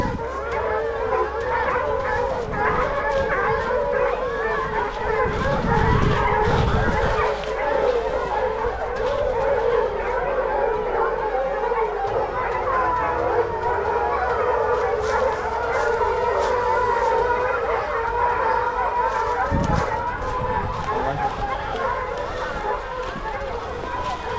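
A pack of hunting dogs barks and howls continuously and loudly at close range, their overlapping baying and yelps forming a steady chorus throughout, with people talking over it.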